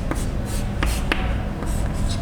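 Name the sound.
writing on a board during a chemistry lecture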